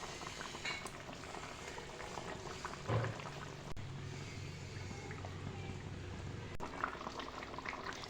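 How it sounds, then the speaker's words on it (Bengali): A Bengali cauliflower and potato curry bubbles in a pot on a gas stove, a soft, continuous simmering burble heard close up, fairly quiet, with a couple of faint clicks along the way. "ঝোলটা উতলে উঠেছে।"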